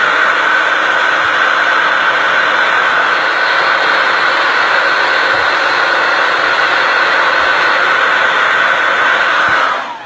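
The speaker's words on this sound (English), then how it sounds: "So you're going to take your blow dryer right underneath your lashes." A handheld blow dryer aimed beneath freshly mascaraed eyelashes gives a steady, loud, close whoosh that runs unbroken for the whole stretch, then cuts off at the very end.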